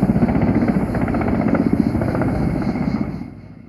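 A loud firefighting helicopter close by during a forest fire, its rotor chopping steadily before the sound begins to fade away near the end.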